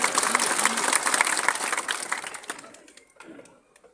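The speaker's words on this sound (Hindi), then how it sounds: "तो साकरस वासियों के लिए तालियां बजाएगा।" Applause from an audience at a public political gathering in Mewat, a burst of dense clapping that stays loud for a couple of seconds and then thins out and fades away.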